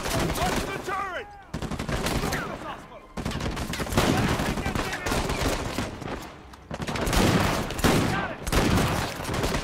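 Turret gunfire in Uncharted 4 pours out in loud, sustained automatic bursts, with brief gaps between volleys. Shouts and other game sounds are mixed into the barrage.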